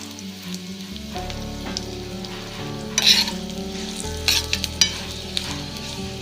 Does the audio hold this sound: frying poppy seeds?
yes